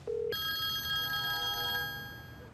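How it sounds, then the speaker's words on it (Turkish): A telephone rings with a short electronic tone followed by a bright, steady ringtone with sustained harmonics, loud and close, fading slightly toward the end with no talk over it. "Hadi Lale, aç şu telefonu ya."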